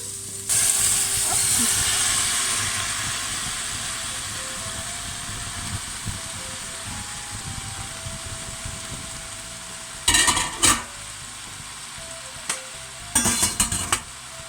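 Cooked Swiss chard sizzling in a pan with ricotta over lowered heat, a steady close hiss throughout with a few brief louder bursts of stirring or clatter near the end.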